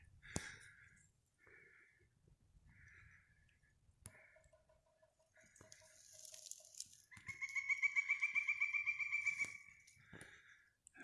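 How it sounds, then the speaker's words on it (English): Croaking and clucking calls from frogs outdoors in the morning along a forest hiking trail, scattered at first, then a rapid rhythmic chorus building loudly before fading, with occasional clicks. "the frogs are really making some noise this morning"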